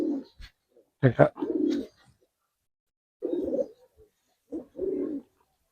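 Giribaz and colouring pigeons coo nearby in several short throaty phrases separated by pauses, and someone speaks briefly between the calls.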